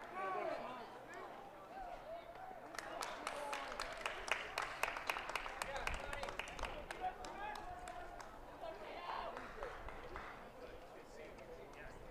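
A high school varsity baseball team, the Hornell Red Raiders, claps in a fast, sustained rhythm from the dugout at a game against Arkport-Canaseraga, heard at a moderate distance under a commentator's voice.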